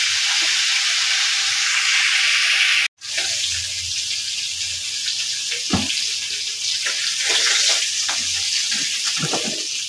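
Fish pieces fry in hot oil for a fish head curry, giving a loud, steady sizzling hiss that cuts out briefly once, with occasional clinks and scrapes from the pan.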